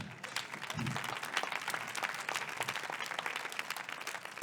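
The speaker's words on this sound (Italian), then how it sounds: "Grazie per l'applauso sull'umiliazione" Stand-up comedy show audience breaking into steady applause that fills the room for several seconds, dense clapping with a brief low murmur near the start.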